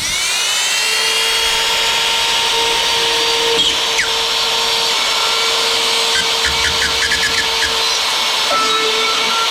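Power tool cutting drywall around an electric box, a loud steady high-pitched whine held throughout with small chattering shifts as the bit follows the box edge.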